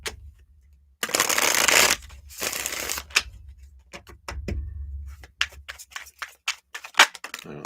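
Cards are riffled and shuffled in a couple of loud bursts, followed by scattered taps and flicks as the deck is handled.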